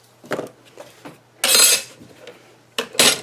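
A paper slicer cuts cardstock in a craft room, with a few light taps as the sheet is positioned, then two bright scraping slices of the blade gliding along the track, separated by quiet.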